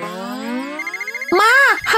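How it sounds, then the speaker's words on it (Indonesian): A mobile phone ringtone plays indoors at home: a rising melodic run of tones followed by sharp electronic chirps, loud and close, with no talk. "HP-nya berisik."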